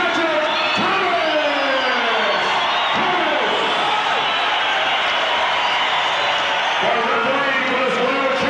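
A large crowd roars and cheers steadily at a karate title fight in a ring, a dense continuous wall of voices with a few whoops rising above it.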